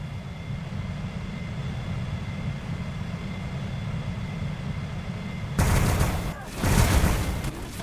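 Gunfire from Warhammer 40000 Battlesector units hitting Tau stealth battle suits: a steady low rumble of battle ambience breaks after about five seconds into loud, dense bursts of shots and booms, with a second volley just after.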